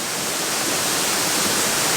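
A waterfall gives a steady, loud broadband rush of falling water, close by and unbroken, with no voices over it.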